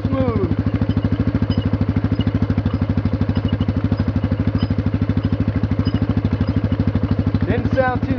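A four-wheeler ATV engine idles steadily and close by, its even, rapid mechanical pulsing running smoothly throughout with a brief extra clatter near the end.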